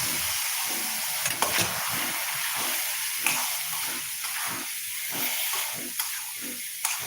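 Pressure-cooked peas sizzle steadily in a frying pan, a continuous hiss and crackle of frying with a few soft clinks and stirring bumps, no voices.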